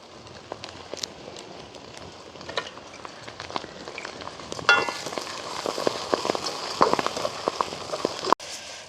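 Onion, green chili and curry leaves sautéing in oil in a pan, a steady crackling sizzle with scattered pops and occasional stirring scrapes, continuous and fairly close.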